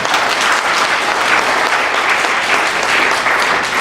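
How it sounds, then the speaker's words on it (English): Audience applause at an anniversary gala, a dense, continuous burst of clapping from a full room, loud and even throughout with no voices on top. "Anything for cheap applause."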